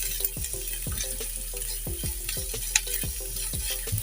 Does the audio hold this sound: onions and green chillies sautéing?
yes